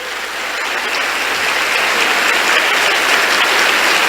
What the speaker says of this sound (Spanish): Vamos a darle un fuerte aplauso al Espíritu Santo